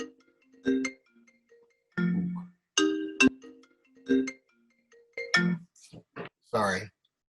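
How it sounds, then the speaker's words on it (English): Phone ringtone plays an incoming-call melody in short tonal bursts that repeat with brief gaps, fairly clear and close, with speech mixed in. "Sorry, I got a phone call."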